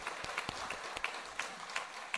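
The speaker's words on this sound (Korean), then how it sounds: "우리 하나님께 영광의 박수 감사의 박수 드리겠습니다." A congregation claps during a Thanksgiving Sunday church service. The applause is fairly faint, with sparse individual claps standing out over a soft background.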